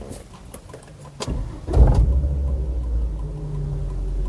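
A Volvo V70 T5 estate engine cranks and catches, then settles into a steady low idle that continues alone to the end.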